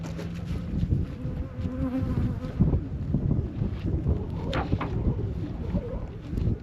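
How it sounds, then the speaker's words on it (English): Honey bees buzz continuously around the microphone near cantaloupe fields, near and loud, with some wind rumble underneath. "We'll take a walk away from the bees in the truck."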